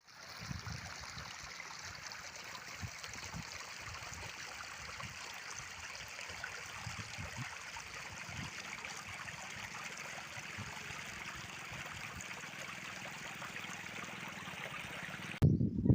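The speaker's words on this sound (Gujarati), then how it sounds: "આજે વહેલી સવારે જ અચાનક ચોમાસું શરૂ થયું અને આ રીતે બધે પાણી ભરવાનું શરૂ થઈ ગયું" Monsoon rainwater rushing through Shoolpaneshwar forest in the Narmada region, a steady, even wash of flowing water with low gurgles and thumps throughout, fairly close and continuous until it stops at the very end.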